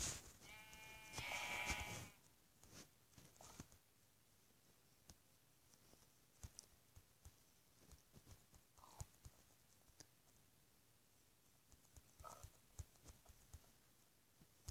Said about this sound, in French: Oh, un mouton.